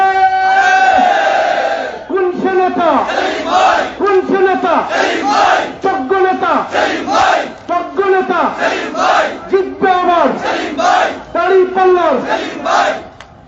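A loud crowd answers a Naray-e-Takbir slogan, chanting in unison; after an opening shout, rhythmic call-and-response bursts repeat over and over.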